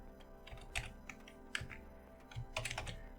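Fingers type on a computer keyboard while entering CSS code, making quiet, close bursts of clicking keystrokes in irregular clusters.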